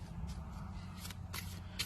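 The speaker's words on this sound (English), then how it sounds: "I was just gonna shuffle these a little bit and put them and pick a deck for Michaela" A deck of tarot cards is shuffled close up, with several quick riffling bursts of card flutter over a low, quiet background hum.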